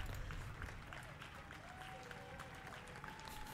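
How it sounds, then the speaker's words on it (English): Faint crowd clapping plays as a steady patter from the good ending of the video game Slay the Princess, with a soft tonal chime above it. "People clapping for us."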